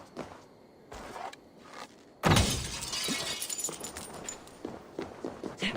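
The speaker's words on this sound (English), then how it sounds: "Breaking stained glass window." A stained glass window in a video game suddenly smashes with a loud burst of shattering glass, then scattered tinkling shards and debris patter down over the next few seconds, following quieter footstep-like thuds.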